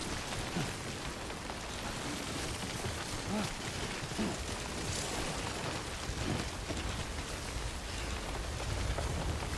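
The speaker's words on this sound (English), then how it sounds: "Can it stop raining for like 5 seconds?" Steady, dense rain pours down in the Death Stranding game world, a continuous hiss with faint low rumbles beneath and no voices.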